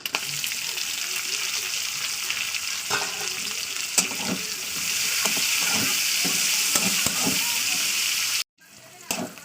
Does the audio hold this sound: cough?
no